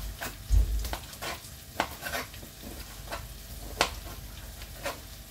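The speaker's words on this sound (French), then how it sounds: "On va laisser cuire les oignons." Onions sizzle in a pan while being stirred, a soft frying hiss broken by intermittent scraping clicks of a utensil against the pan, fairly quiet and close with no talk.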